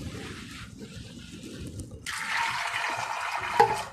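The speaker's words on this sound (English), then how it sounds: "I'll add little water" Water pours into a pressure cooker holding chana, salt and turmeric, starting as a low trickle and then turning into a louder, steady rushing stream.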